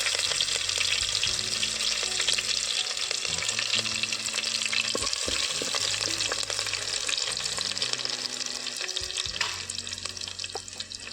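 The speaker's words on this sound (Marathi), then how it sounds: "मी फोडणीसाठी मिरची टाकते" Green chillies crackle in hot oil as tempering for Konkan-style potato bhaji, a loud dense sizzle with sharp pops that holds steady throughout and eases slightly toward the end.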